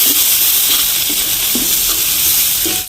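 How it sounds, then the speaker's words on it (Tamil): Curry leaves and onions sauté in hot oil in a pan, a loud, close, continuous sizzle with a few soft stirring knocks, cooked in a kitchen preparing lunch for elderly people. "கருவேப்பிலை இதெல்லாம் நல்லா வதங்கட்டும்."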